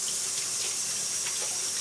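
Water from a tap runs steadily into a sink as hands are rinsed of ballistic gel, a constant close hiss with faint splashing shifts.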